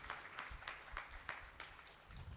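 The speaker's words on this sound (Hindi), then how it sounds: "जोरदार तालियों से इन सभी का एक बार स्वागत करें" Quiet, fairly distant clapping welcomes guests at a Jain Kshamavani gathering in Belgachia led by Acharya Pramukh Sagar, heard as a run of about eight spaced claps in a loose rhythm.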